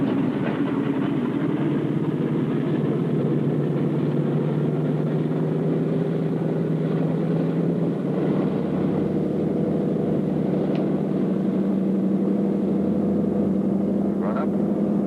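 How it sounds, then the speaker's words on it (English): A piston-engined aircraft's left engine starts during a preflight checklist: a loud, steady droning rumble holds throughout, with a low tone that slowly rises in pitch and no voices over it. "Start left engine."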